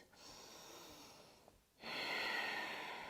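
Quiet breathing during a yoga hip-opening stretch: a soft exhale and pause, then a fuller, louder breath drawn in close to the microphone.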